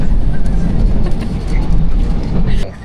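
A Taiwanese MRT metro train makes a loud, close, continuous roar and rumble inside the carriage. The level swells slightly and then drops off at the end.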